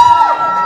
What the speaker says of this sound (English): Let's give our loudest cheer again.